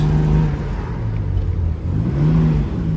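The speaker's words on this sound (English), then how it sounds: "Here comes a 2-3 shift" A 1958 Jaguar XK 150 on an open road steps up from second to third gear, its engine note dropping and then climbing again in a smooth, continuous rising drone close by.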